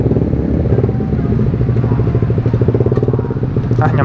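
A motorcycle engine chugs close by while the bike inches through a traffic jam, its throbbing idle and low revs pulsing steadily, with a rider's voice briefly heard over it.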